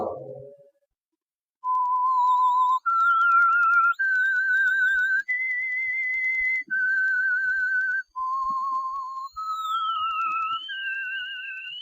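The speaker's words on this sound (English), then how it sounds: "Let that whistle be your signal for the Whistler." A lone, clear whistle plays the eerie theme tune of The Whistler radio show, a slow melody of sustained notes that step up and down, loud and close with no talk over it.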